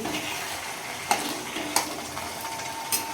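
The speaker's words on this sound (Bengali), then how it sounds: "দেখো ভালো করে ফুটছে।" Taro leaf curry with a hilsa fish head bubbling in a pan, a steady soft sizzle and simmer with a few faint clinks spaced through it, heard close with no talking.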